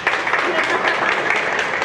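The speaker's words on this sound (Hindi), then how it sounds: "तालियां हो जाए" Audience clapping during a subconscious mind power demonstration, a brief burst of steady applause lasting under two seconds with voices mixed in.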